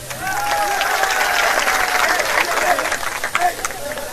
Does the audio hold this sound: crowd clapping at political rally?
yes